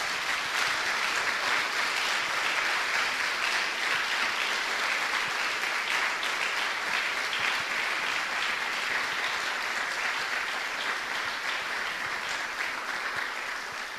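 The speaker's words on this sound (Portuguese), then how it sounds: "Dê uma salva de palmas a Jesus." A church congregation claps together in sustained, dense applause, a steady wash of hand claps lasting the whole time without a break.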